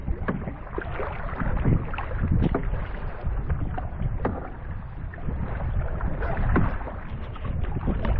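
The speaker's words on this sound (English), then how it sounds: "It's very, very windy." Strong wind buffets the microphone in a constant rumbling roar while rocking on a lake. Water laps and sloshes beneath it.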